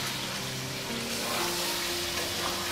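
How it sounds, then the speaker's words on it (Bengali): Chicken meat for haleem cooking in water in a covered pot over a medium flame, a steady broadband hiss and bubbling sizzle, close and continuous with no talk. "মাংসে জল দিয়ে দিব হালকা, দিয়ে আমি একটু ঢেকে দিব যাতে মাংসটা ভালো করে সিদ্ধ হয়ে যায়।"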